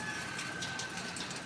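Steady rain pours during a typhoon, a dense and fairly faint hiss of falling water with no break and no voices.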